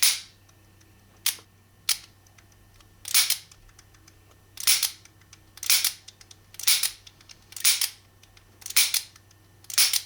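Sharp metallic clicks come from a Taurus 856 revolver as its cylinder is handled and checked for lockup, about ten crisp snaps at irregular intervals, close and distinct over a faint background hum.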